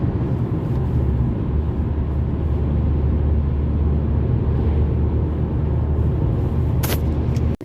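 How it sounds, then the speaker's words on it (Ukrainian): A car driving fast on an open road fills the clip with a loud, steady engine and road drone heard from inside the vehicle, unchanging throughout, with a short click near the end and no talking. "проїдемо швиденько, прогоримо трішки двигунчик"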